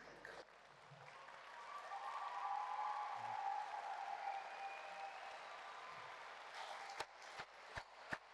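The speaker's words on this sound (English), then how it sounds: "give them a huge round of applause and a big cheer" A graduation audience of families and friends at Queen Margaret University, Edinburgh, gives sustained applause and cheers, a steady wash of clapping that swells and then breaks into a few scattered loud claps.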